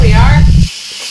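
Steam from an Instant Pot's quick pressure release hisses loudly for about half a second after the valve is opened, then stops abruptly, leaving quiet room tone.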